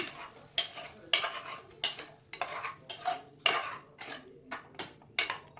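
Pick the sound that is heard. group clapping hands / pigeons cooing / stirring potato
stirring potato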